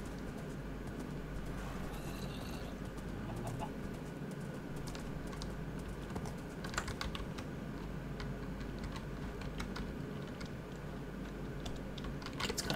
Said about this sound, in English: Sorry for the keyboard tapping as well.